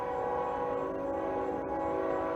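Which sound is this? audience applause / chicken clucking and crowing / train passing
train passing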